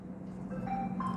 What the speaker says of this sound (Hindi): फोन आ गया, 1 मिनट जरा स्विच ऑफ कर दूं।